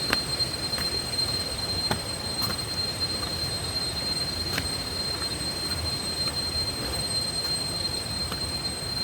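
A steady, high-pitched cicada drone holds throughout over a constant wash of rushing waterfall noise at Pha La-u waterfall, Hua Hin, with a few faint clicks.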